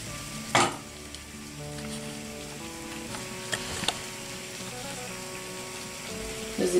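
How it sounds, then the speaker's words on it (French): Spinach going into a hot cooking pot gives a steady sizzle, with a sharp clatter near the start and a few later knocks against the pot, all fairly soft and with no talk. "Nous allons mettre nos épinards dans la marmite."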